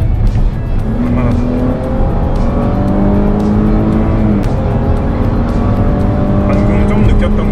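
A Cadillac XT6 Sport accelerates hard on a test drive, its engine note rising in steady sweeps as heard from inside the cabin, with people talking over the sound throughout.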